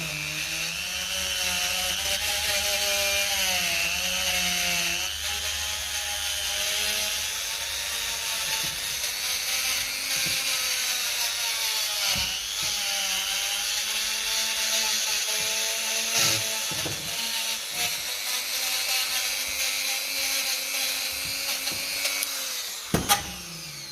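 A Dremel rotary tool cleaning Zenith 28G carburettor parts from a 1957 Ferguson FE35 TVO tractor, a steady high whine with its pitch dipping and rising as the bit presses on the metal, running close and continuously with brief knocks near the end.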